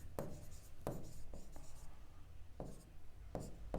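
Chalk or marker strokes on a board as an equation is written during a class, a series of short scraping taps and swipes spaced irregularly, close and clear.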